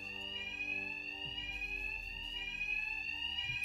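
A steady, loud electronic bank alarm in Batman: Arkham Knight rings continuously with a shrill high tone, unbroken throughout, with faint low game ambience and no talking.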